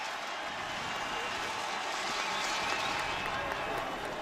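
A big crowd in the stands at the Sun Bowl cheers at a UTEP college football game against Texas Tech, a steady broad roar that holds at the same level throughout.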